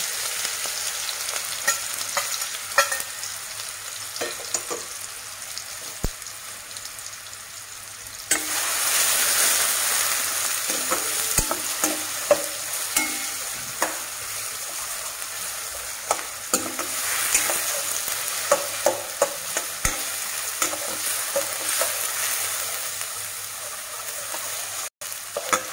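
Garlic and onion frying with asafoetida in a pan, a steady close sizzle that swells louder partway through, broken by scattered clicks and scrapes of stirring, with no talking.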